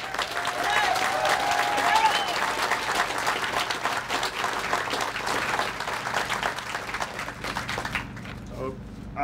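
Large crowd applauding a welcome for the Mast General Store's arrival in Winston-Salem, dense sustained clapping for about eight seconds before it cuts off abruptly near the end.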